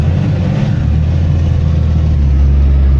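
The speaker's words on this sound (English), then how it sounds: "We're doing 4th gear cookies in the yard." A Cummins diesel-powered Ford Excursion roars continuously in 4th gear while spinning cookies in a yard, a loud, sustained low engine drone close up with no talking.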